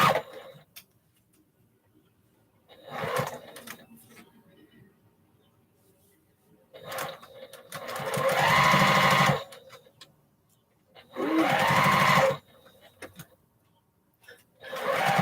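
A home sewing machine stitches quilt blocks for a postage stamp quilt top in two loud bursts of a couple of seconds each, with lighter stitching and someone talking between them.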